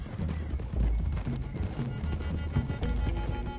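Several horses gallop in a Western-style game, a steady rolling clip-clop of hooves running close and loud throughout, with an occasional whinny over the pounding rhythm.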